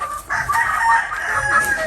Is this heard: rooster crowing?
yes